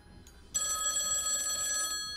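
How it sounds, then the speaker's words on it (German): Telephone in the video game Lucius ringing with a bright, steady electronic bell tone that starts suddenly and holds for about a second and a half, fairly clean and close. "Telefon."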